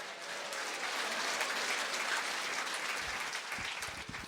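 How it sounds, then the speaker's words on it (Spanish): Steady applause from a crowd, dense clapping sustained throughout at moderate volume. "Fuertes aplausos."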